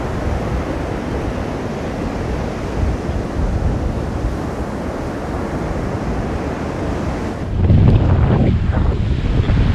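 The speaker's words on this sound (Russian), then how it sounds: "это очень опасный шторм, он гудит" Strong storm wind and heavy surf on the sea at Anapa, with a south wind blowing: a loud, steady roar buffeting the microphone that swells even louder near the end, with no voices.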